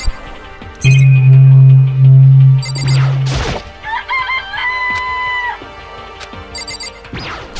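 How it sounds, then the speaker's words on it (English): Video game chickens in Danganronpa Trigger Happy Havoc sound off in a loud electronic burst: a long, sustained crow followed by several short clucks and chirpy squawks, with brief gaps of silence between the calls. "It's a chicken."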